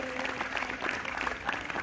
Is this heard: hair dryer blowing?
no